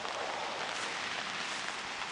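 Steady rain hisses over a garden of gardenias and anthuriums during Hurricane Lane on Maui, an even, dense wash of drops on leaves with no break and no voices.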